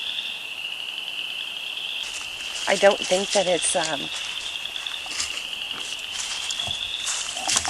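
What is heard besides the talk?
frogs croaking at night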